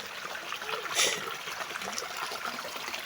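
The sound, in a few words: stream being crossed at Balingasaw Falls, Leyte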